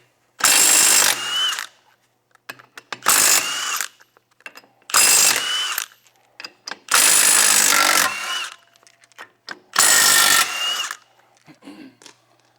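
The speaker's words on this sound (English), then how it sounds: "We'll get our impact. We'll pull our lugs off." A pneumatic impact wrench rattles off the lug nuts on a Tilmor 520 tractor's rear wheel in five loud, close bursts of about a second each, separated by short pauses filled with light clinks and handling noise.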